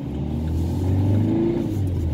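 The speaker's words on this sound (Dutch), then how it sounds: "Alles hier aan het blokkeren, die ene auto." A car that had been blocking the road pulls away, its engine swelling into a short revving rumble up close, loud and steady for about two seconds with no talk over it.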